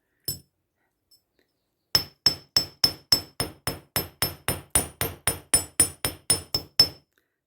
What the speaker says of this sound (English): Let's planish those out. I use the flat side of the hammer.